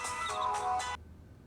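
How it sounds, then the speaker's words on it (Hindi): A mobile phone ringtone for an incoming call plays in a few repeating bursts, fairly quiet, then cuts off abruptly, leaving near silence. "किरण की कॉल आ रही है"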